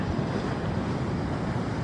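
Pacific Ocean surf on an early-morning coastline gives a soft, continuous wash of waves blended with wind rumble against the microphone, steady and moderately quiet with no voices.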